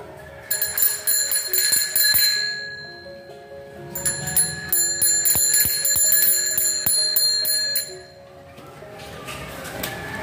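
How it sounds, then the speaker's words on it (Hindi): A bright bicycle bell rings repeatedly in quick trills, loud and close, over faint outdoor background noise. "घंटी बजा दो।"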